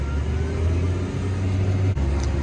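A New Holland T7040 tractor's engine runs with a low, steady drone close by, briefly dipping and then holding its revs while drilling in a field.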